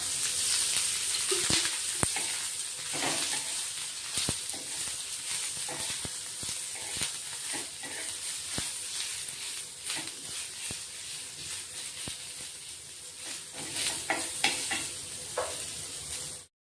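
Sliced onions fry in oil in a pan for a village-style mutton masala, a steady close sizzle with stirring scrapes and clatters running throughout, no talk.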